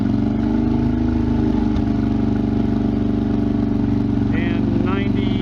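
A 2016 Harley-Davidson Dyna with a Vance & Hines Big Radius exhaust idles with a loud, steady low rumble throughout, and a voice speaks briefly over the engine near the end.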